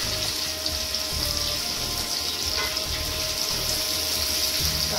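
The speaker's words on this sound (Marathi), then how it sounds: "आपण इकडे कांदा टाकून घेऊया तेलामध्ये" Chopped onion frying in hot oil for chicken dum biryani gives a steady, close, loud sizzling hiss that holds evenly throughout, with no voices.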